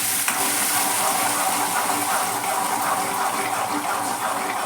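Ground paste of tomato, onion and curry leaves sautéing in oil for a rock fish curry, a loud, continuous wet sizzle and bubbling close by with faint stirring, and no talk.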